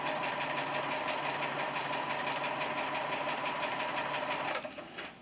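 A sewing machine stitches quilt fabric for a nine-patch sampler block, running in a steady rapid mechanical whir close by, then slowing and stopping near the end.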